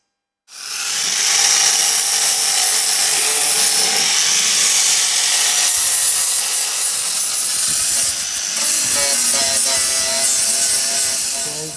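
Steady, loud abrasive grinding on metal bodywork of a Land Rover Discovery 1 raised on a lift, running continuously for about eleven seconds with slight changes in pitch and pressure, no talking.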